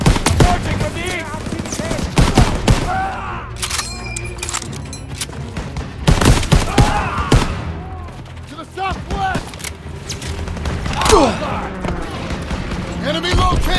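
Rifle and machine-gun fire crackles through a World War II battle in Call of Duty WW2, with bursts and single loud cracks scattered over the whole stretch, while soldiers shout orders in between.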